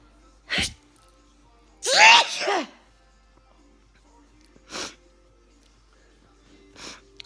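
A person sneezes repeatedly, with one sharp sneeze followed by a louder, drawn-out double sneeze and two smaller sneezes later, each standing alone against near silence.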